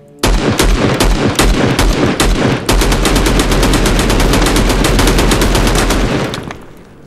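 Sustained automatic gunfire in the survival shooter Will To Live Online, loud and near, two long rapid bursts of evenly spaced shots with a short break, fading at the end.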